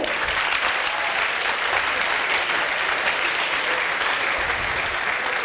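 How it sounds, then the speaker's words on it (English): Dense, steady applause from an audience at an architecture panel discussion event, a loud continuous wash of many hands clapping with no pause. "A round of applause for yourself."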